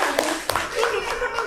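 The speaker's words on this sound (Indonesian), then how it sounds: "tepuk tangan untuk kelompok 6." Short burst of hand clapping from a small classroom group, fairly soft and quick, with a few sharper individual claps standing out.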